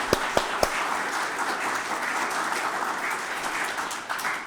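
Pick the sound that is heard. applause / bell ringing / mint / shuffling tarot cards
applause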